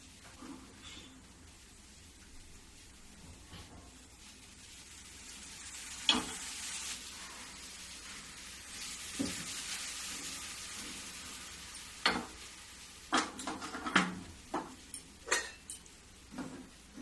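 Wheat-flour sweets deep-frying in oil over a medium gas flame, a steady soft sizzle throughout with scattered sharper clicks and ladle knocks growing busier toward the end, no talking.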